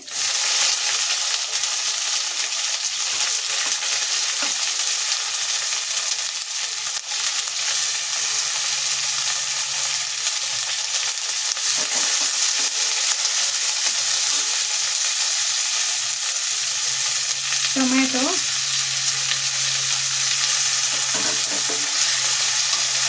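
Onions sizzle steadily in a hot pan for a Bombay aloo masala, with occasional stirring scrapes and a few clinks rising over the constant frying hiss, close up and with no talk.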